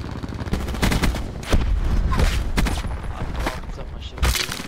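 Rapid bursts of gunfire ring out in the video game Blackout on the Alcatraz map, loud close volleys and automatic fire repeating throughout, with voices talking at times.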